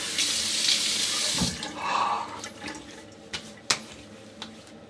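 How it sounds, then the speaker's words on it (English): Water runs from a bathroom tap for a shave rinse, a steady hiss for over a second before it is shut off, followed by a few splashes and light knocks at the sink. "Let's have a rinse."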